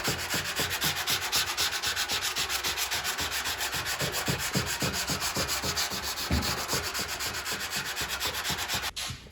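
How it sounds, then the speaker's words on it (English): Body filler on a car being sanded by hand, a steady rhythmic rasping of strokes back and forth that repeats evenly and close up for several seconds, with no talking. "And then just sand to your line."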